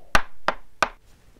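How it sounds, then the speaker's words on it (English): Three firm knocks on a door in a steady, evenly spaced rhythm, sharp and close, followed by quiet. "suddenly there was a knock on the door."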